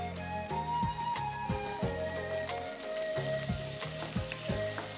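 Potatoes frying in a pan, a steady close sizzle with repeated scraping strokes from stirring over background music.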